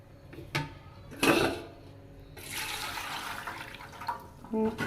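Water splashes and pours into a pot with a couple of knocks and clatters of cookware before it.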